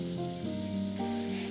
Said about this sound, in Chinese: 一早腌好的韩式辣鸡也下锅炒熟